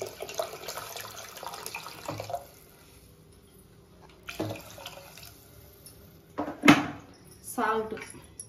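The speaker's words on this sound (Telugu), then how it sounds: "కొంచెం వాటర్ పోసుకుందాం" Water is poured into a pot while making pacchipulusu, with short splashing pours and clinks of utensils in bursts separated by quiet gaps, near and moderately loud.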